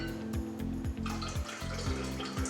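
Orange juice poured into a cup for a kids' juice chemistry experiment, a steady close trickle with a rising gurgling pitch as the cup fills, heard alone.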